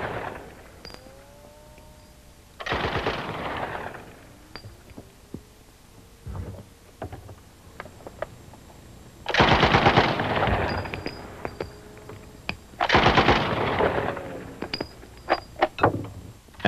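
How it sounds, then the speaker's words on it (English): Uzi 9mm submachine gun without a muzzle brake fires several loud, rapid full-auto bursts at a range, each a dense rattle of shots separated by pauses with scattered clicks and mechanical handling noise. "This is the popular Uzi 9mm, shown without the mill break."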